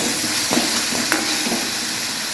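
Spices and green chilies fry in a pan for a chatpati guava vegetable dish, giving a steady loud sizzle and hiss with a few soft stirring clinks.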